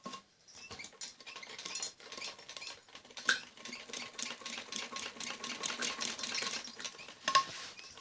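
A sewing machine stitches a padded blouse, making a soft, quick ticking and pattering with small irregular bursts that stay fairly faint throughout.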